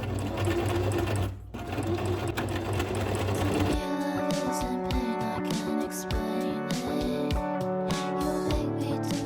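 A sewing machine stitches along the edge of a thrifted skirt, first a low steady run, then after a brief pause a fast rattling burst of needle strokes that continues loud and close to the end.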